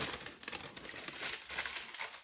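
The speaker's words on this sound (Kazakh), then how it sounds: "Пергамент қағазын орналастырдым." Parchment paper crinkles and rustles as it is pressed into a tall-sided baking dish for a grilled chicken. The crackling comes close and continuous, in quick irregular bursts at low volume.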